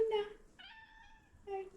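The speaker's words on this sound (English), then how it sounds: "That's our cat." A domestic cat meows in short calls near the microphone: a drawn-out mew between two briefer ones, in a quiet room at home.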